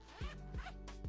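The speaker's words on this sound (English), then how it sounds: "A little zipper ASMR, huh?" A zipper is pulled in three quick, close, crisp zips with short pauses between them, heard alone.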